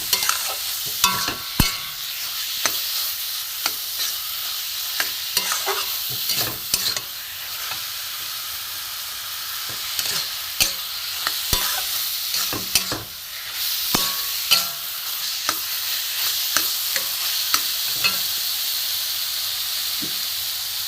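Carrots fry in ghee for carrot laddu, a steady sizzling hiss broken by frequent scraping stirs of a spoon in the pan, close and continuous with no talking.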